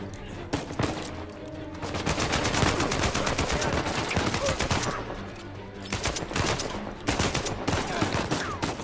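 Dense, steady Uncharted 4 gunfire pours out in rapid automatic bursts and sharp single shots, loud and close, with only brief dips between volleys.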